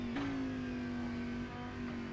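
A GT3 race car in a sim race at Spa-Francorchamps braking hard into Rivage, its steady engine note dropping in pitch as it slows, loud and close throughout.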